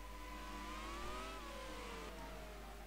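2010 Formula One cars, Buemi trailing Kobayashi, race through a slow chicane at Abu Dhabi. Faint, distant engine whines rise and fall in pitch as they brake and accelerate.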